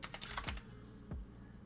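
Computer keyboard typing: a quick run of close, crisp keystrokes, then a pause and a single louder key thump, fairly quiet overall with no voices.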